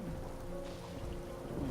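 A rain spell cast in the video game Divinity: Original Sin 2, heard as a steady, dense hiss of falling rain with a low rumble, playing over sustained game music for under two seconds.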